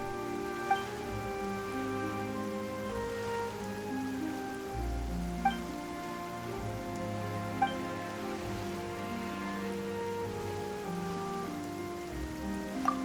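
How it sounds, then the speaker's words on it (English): Steady rainfall in the video game Genshin Impact, a continuous soft patter over a low ambient music bed with occasional faint chime-like tones, evenly sustained throughout with no talking. "Why is it raining all of a sudden?"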